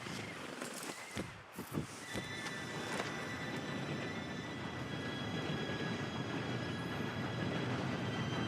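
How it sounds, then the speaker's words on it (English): A train rumbles steadily close by, with thumping knocks early on, then a continuous rolling roar and a thin metallic whine layered over it. "Train should be here any minute now."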